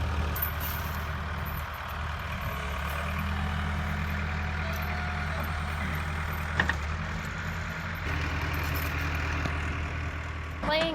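A skid loader's engine runs steadily and loud, pulling a chained tree limb down while branches are cut along a farm fence row; a low constant drone holds throughout, with a brief sharp crack near the end and a faint voice underneath.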